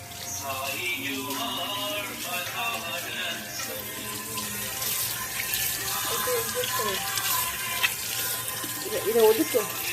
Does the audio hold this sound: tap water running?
yes